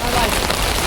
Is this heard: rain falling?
yes